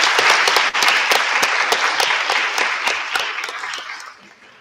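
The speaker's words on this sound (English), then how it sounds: "Now let's give a warm round of applause and show our appreciation to" Warm audience applause for sponsors and partners at a Vincent Chin 40th remembrance event, a steady burst of many people clapping that gradually tapers off at the end.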